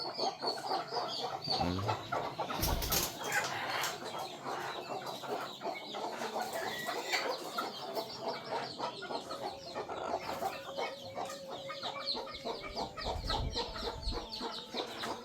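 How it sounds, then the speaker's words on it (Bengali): Many caged chickens at a village home cluck steadily and overlap one another in a dense, continuous chorus, with occasional louder squawks and bumps throughout. "অনেকগুলো মুরগি প্রত্যেকটা খাঁচা খাঁচা মুরগি আছে"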